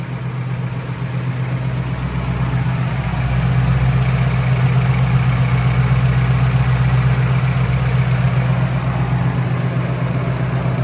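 A 1981 Ford F100 V8 pickup, lowered, idles steadily with a smooth, even low rumble that holds constant throughout, close and loud, with no talking.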